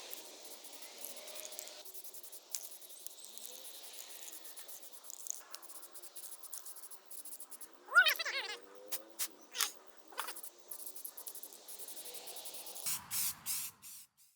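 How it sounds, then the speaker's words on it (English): Short hissing bursts of spray paint coat model HO train layout rails laid out outdoors, intermittent puffs of spray with pauses between them and a few louder clicks and rattles. "And of course now we spray paint away."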